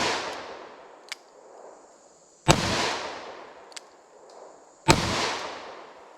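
Two loud close gunshots from an S&W Governor revolver firing .410 buckshot at a target ten yards away, each sharp blast followed by a decaying outdoor echo, with faint distant pops between them.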